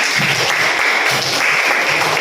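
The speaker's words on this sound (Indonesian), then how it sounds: "Tepuk tangan untuk Sahana." Classroom applause for a student who answered correctly, a steady patter of many hands clapping throughout at moderate loudness, with a faint murmur of voices underneath.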